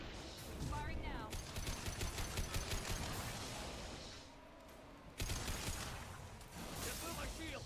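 Rapid automatic gunfire from the video game Mass Effect 2, loud sustained bursts of shots with a short pause before another volley, mixed with mechanical clatter.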